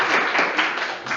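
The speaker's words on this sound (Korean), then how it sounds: "박수 한번." An audience claps in applause for a youth council member at a Seongbuk district council event, a brief, dense burst of many hands at moderate volume with no talking over it.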